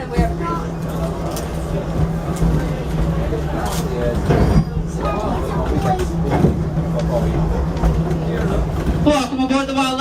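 Wildlife Express train at Animal Kingdom rumbling along with a steady low hum and rattling clatter, passengers' voices talking over it throughout.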